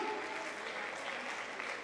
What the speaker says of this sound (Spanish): fuerte el aplauso para nuestro Señor que nos ama